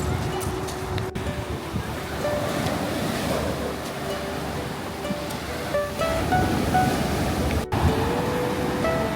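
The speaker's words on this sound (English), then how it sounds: "So we're here at Black Sand Beach." Ocean surf rolling onto Black Sand Beach on Maui, Hawaii, a steady broad wash of waves with wind buffeting the microphone and two sharp knocks, heard up close with no clear talk.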